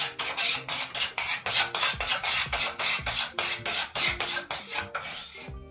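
Steel card scraper drawn repeatedly across wood, lifting fine shavings in a steady rhythm of about a dozen close, rasping strokes, each a bright scratchy swish, with no talk.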